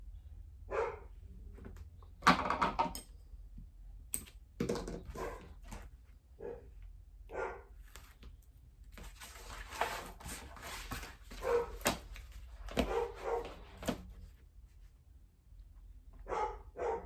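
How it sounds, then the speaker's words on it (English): A dog barks in the background during a home sewing session, with repeated scattered barks, yips and whimpers coming in uneven bursts, moderately loud and at some distance with no talk over them. "Sorry about the dog barking, if you can hear that."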